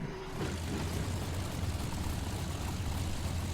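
A Saab B17 propeller engine in Microsoft Flight Simulator runs with a steady, low droning rumble and a constant throb, heard close and alone with no talking.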